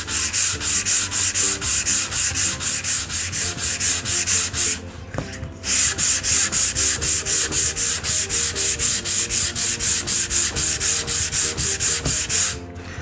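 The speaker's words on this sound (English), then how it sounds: "So now we'll just continue with some hand sanding." Steady rhythmic strokes of sandpaper rubbing across wood, loud and close, with a brief pause midway before the back-and-forth scraping resumes.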